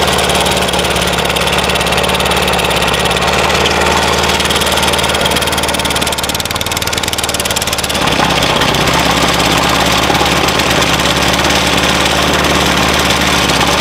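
A Pantone-system engine running on a mix of 75% water and 25% petrol, heard as a loud, continuous close-up engine drone with a steady mechanical rattle and no speech.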